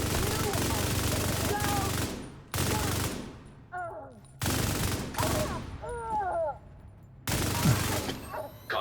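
Video game gunfire from two weapons comes in several loud bursts separated by short pauses, with crackling rapid shots and brief whistling or ricochet-like tones in the gaps.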